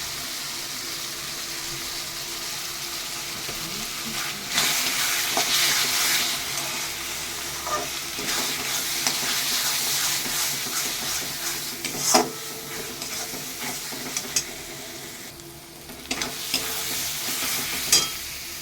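Ground cumin, coriander, chilli, turmeric and Kashmiri chilli powders stirred and frying in a pan for a mutton curry, a continuous crackling sizzle broken by repeated scraping spatula strokes and a few sharp clinks against the pan.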